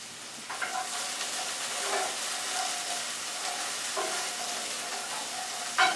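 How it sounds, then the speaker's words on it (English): Onions sautéing in a pan for beef tacos make a soft, continuous sizzle with faint clinks and stirring scrapes every couple of seconds, heard close and with no one speaking. "where you're sauteing the onions"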